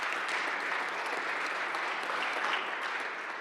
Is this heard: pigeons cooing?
no